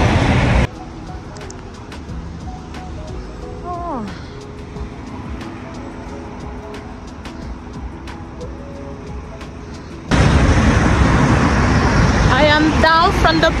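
Evening road traffic on a busy London street with a bus, a steady rumble of passing vehicles that swells much louder near the end, while a voice talks over it.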